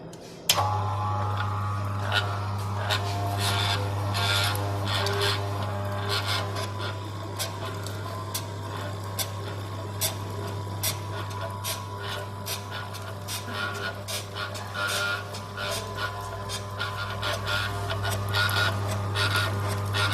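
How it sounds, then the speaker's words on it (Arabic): A small peanut oil press machine runs steadily with a low constant motor hum, overlaid by continuous faint scraping and grinding crackles as seeds are pressed, fairly quiet and without talk. "بنبدأ نشغل المكنة من الزرار ده"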